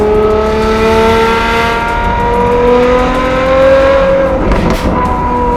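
A Ferrari 812 GTS V12 supercar fitted with an aftermarket exhaust system revs loudly and steadily, its rising and falling engine tones sustained close by for several seconds with a sharp blip near the end.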